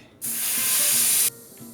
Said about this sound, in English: I'm going to let out the air pressure now so it's easier to get off of the bike